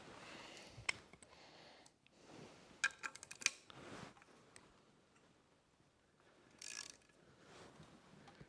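A ratchet tightens the cylinder head bolts on a 1949 Willys truck in quick clicking bursts, with a few sharper metallic ticks between quieter pauses, fairly faint and with no speech.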